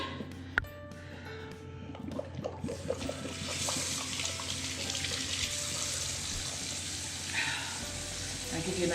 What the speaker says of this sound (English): I'm gonna rinse these off in cool water so they won't stick